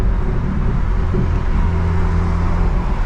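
A BMW M3 with a manual gearbox pulls steadily after a shift into fifth gear, its engine a continuous, loud low rumble and drone heard close up from inside the car, with no talking.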